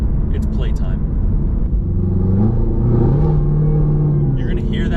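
A 2022 Chevrolet Camaro ZL1 1LE in track mode rumbles nearby, its engine note rising and stepping between gears with audible shifts, while a voice speaks over parts of it.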